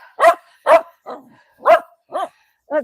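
A puppy barks six times in short, sharp, evenly spaced yips, close and loud, with brief silences between them.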